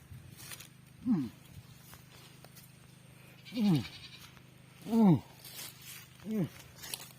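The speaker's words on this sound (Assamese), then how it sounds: "এটা এটা দুটা তিনি চাৰিটা পাঁচ ছয়টা ছাগলী আছে" Goats bleat four times at irregular intervals, loud and fairly close, each cry a short wavering call over a quiet outdoor background.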